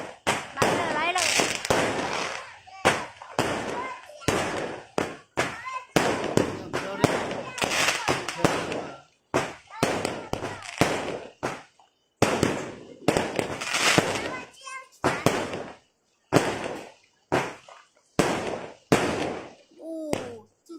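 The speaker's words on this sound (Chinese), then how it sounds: "住在中间的好处就是很多烟火。" Fireworks and firecrackers explode at a 2019 Lunar New Year celebration in Taiwan: dense volleys of sharp cracks and booming bursts come close and loud in rapid bunches, with people talking and exclaiming between them.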